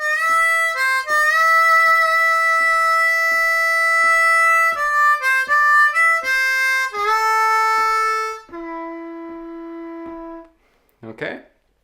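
A blues lick on a G harmonica in 3rd position, played slowly as sustained reedy notes that bend and step between pitches, with soft rhythmic ticks keeping time underneath, ending with a brief breathy sound.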